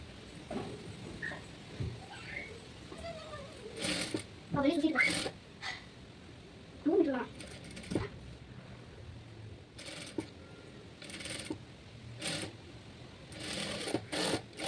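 A domestic sewing machine stitches a folded cloth hem in short bursts of rapid needle chatter separated by pauses, heard close, with someone talking between and over the runs.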